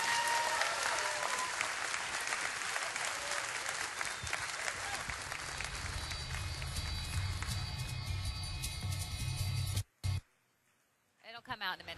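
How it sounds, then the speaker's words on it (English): Large convention audience applauding the panelists after a World of Warcraft Cataclysm cinematics panel at BlizzCon 2010; loud, dense clapping with some crowd noise, cut off abruptly near the end before a brief return. "Let's have a round of applause for our panelists."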